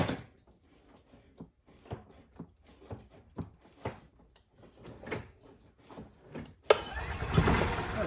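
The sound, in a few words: 2009 Club Car Precedent golf cart engine running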